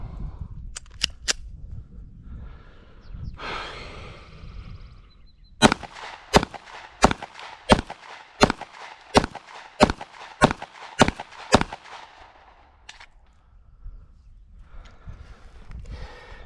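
Rapid pistol fire from a CZ P-01 on a shooting range: a few opening shots, then a string of about a dozen loud, evenly spaced sharp reports, with quieter handling noise before and after.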